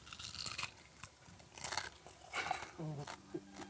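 Cooked swallow's head being bitten and crunched, several crisp close crunches in bursts with chewing between, and a brief voice near the end.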